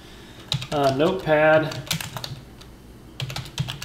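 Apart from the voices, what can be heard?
typing on a computer keyboard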